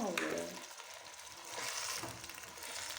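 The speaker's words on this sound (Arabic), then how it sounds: "يزيد يتقلى مع الطماطم تاعنا" Fava beans frying with tomatoes in a pan, a steady broadband sizzle with stirring that holds throughout at a moderate, close level, alone with no talking.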